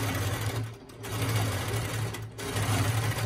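A sewing machine free-motion quilts around a flower applique, its needle running in a fast steady whir that pauses briefly twice before resuming, close and clear.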